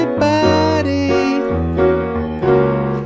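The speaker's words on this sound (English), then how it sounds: "There's also an awesome bass line in the bridge that is going to sound like this." Piano plays the bridge bass line of a song, sustained chords over a moving low line with a few distinct changes, close and full, with no talking.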